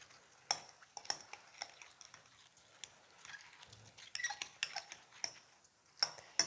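Apple is stirred into a chicken pineapple salad in a bowl, heard as quiet, sparse clinks and scrapes of a spoon against dishware with short irregular taps separated by near silence.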